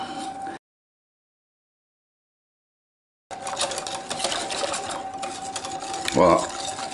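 Milk is whisked into crêpe batter in a bowl, a steady rapid scraping and tapping rhythm close by. It starts briefly, cuts to silence for a few seconds, then resumes continuously with a louder clink near the end.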